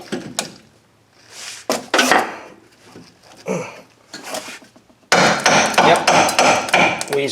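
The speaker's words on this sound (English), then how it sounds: "You're gonna have to probably tap that back in with a hammer." Hammer strikes tapping a control arm bolt into place during rear brake work on a 2008 Hyundai Elantra: a few spaced metallic taps early on, then a dense burst of rapid, loud blows in the final seconds.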